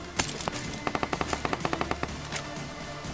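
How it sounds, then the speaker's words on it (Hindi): Gunfire in the battle-royale game PUBG at Pochinki: a rapid automatic burst of about fifteen evenly spaced shots, preceded by a couple of single cracks and followed by one more, fairly close and without talk. "तभी राइट साइड से एक फायरिंग साउंड आता है"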